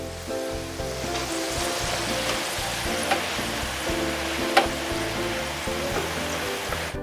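Potato pieces fry in hot oil for a large batch of sambal goreng kentang, giving a steady, dense sizzle with a few sharp crackles and pops. Soft background music plays underneath.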